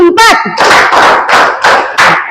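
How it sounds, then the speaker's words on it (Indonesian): Classroom clapping in counted sets, with a brief spoken count at the start followed by four loud, evenly spaced group hand claps close to the microphone. "Tepuk 1. Tepuk 2. Tepuk 3. Tepuk. Nah, tepuk 4."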